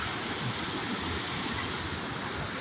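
A waterfall swollen by rain cascades near a bridge on the Hafod Estate, a dense, steady roar of rushing water heard close and unbroken, with no voices.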